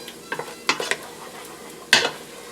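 Minced garlic stirred in a soup pot with a utensil, a few quick scraping and clattering strokes against the metal alongside a light sizzle, close and fairly loud.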